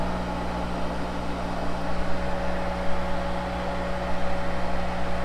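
Monarch 10EE lathe running steadily at 1000 RPM with oil churning in the gearbox, a constant mechanical hum with a strong low drone and a faint higher whine, close by and unbroken.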